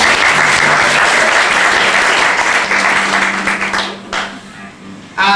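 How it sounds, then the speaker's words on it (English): An audience in a Baptist church at a live concert applauds the keyboard player, a dense sustained wash of clapping that fills the room for about four seconds, then thins out and briefly swells again at the end. "So give me a round of applause, he was really good."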